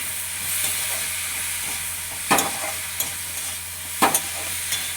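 Potatoes fry in a pan with turmeric and chili powder. A steady sizzle runs throughout, with two or three sharp scraping knocks as they are stirred.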